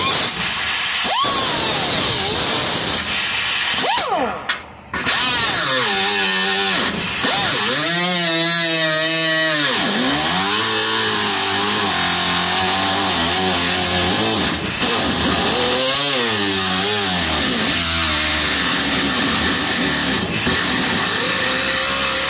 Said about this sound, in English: Alright, compressor's catching up.